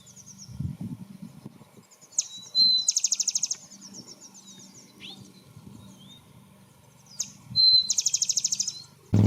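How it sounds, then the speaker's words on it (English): Rufous-winged sparrows sing outdoors, two bright bursts of fast repeated trilling notes with a few chips between, fairly close and clear over faint low background noise. "After a little bit of work, we were able to get some rufous winged sparrows singing."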